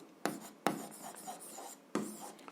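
Pen or chalk writing out an algebra expression, short scratchy strokes close by, with a few sharp taps where the tip lands, quiet and alone.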